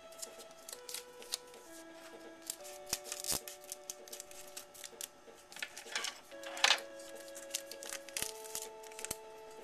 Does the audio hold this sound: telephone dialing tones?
no